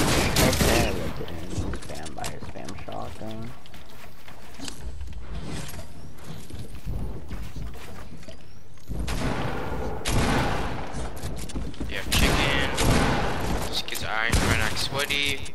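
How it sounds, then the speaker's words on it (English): Shotgun blasts fired in quick succession in a video game, loud booming reports repeating through the stretch with mechanical clatter between shots, under a talking voice. "Spam shotgun."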